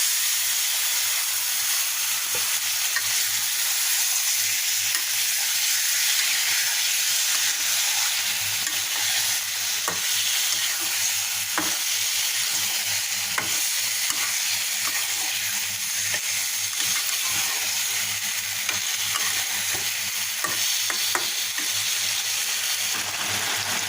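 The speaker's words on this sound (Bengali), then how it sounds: "এখানে একটা কড়াইতে আমি টমেটো সস আর বাটা মশলা দিয়ে তাকে কষিয়ে নিয়েছি এখন ওই কষা মশলা কষার ভিতরে এই মাছগুলো দিয়ে" Pangas fish simmering in a pan of reduced tomato sauce and ground spice paste, giving a steady soft sizzle and bubbling hiss with occasional stirring clicks, close and continuous with no talking.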